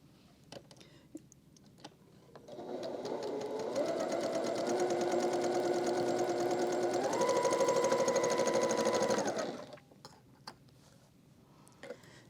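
A sewing machine runs one continuous stitching burst of about seven seconds along a 90-degree quilt seam, a steady mechanical whir that rises slightly in pitch partway through before stopping, with quiet room ticks around it.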